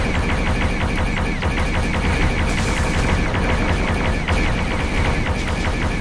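Rapid, continuous gunfire and booming explosions from mortar and small-arms fire in a military combat video game, loud and dense throughout with no pause.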